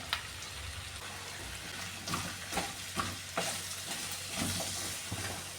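Onion, shallots, green chili, curry leaves and garlic sautéing in a pan for Kerala-style sambar, a steady moderate sizzle broken by repeated stirring scrapes at an uneven pace.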